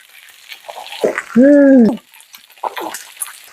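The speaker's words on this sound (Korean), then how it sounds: "삼겹살이 익어가고 있어요" Pork belly sizzles and crackles in a hot pan, a close, steady fry with small pops, briefly interrupted by a short, loud, voiced tone partway through.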